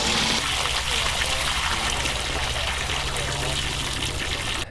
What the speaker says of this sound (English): empty our gray tank water